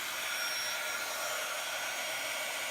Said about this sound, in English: So what I'm doing is I'm waiting for the heat tool to warm up a little bit.